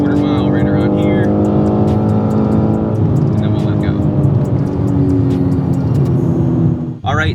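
BMW G80 M3 accelerating hard off a launch-control start, its engine roaring loud and steady with the pitch climbing through the gears before cutting off abruptly near the end.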